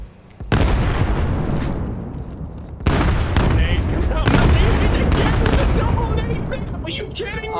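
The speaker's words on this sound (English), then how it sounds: "Watch these nades." Grenades explode in the video game Vail during a playoff esports match: two sharp, loud blasts with rumbling tails over busy in-game noise.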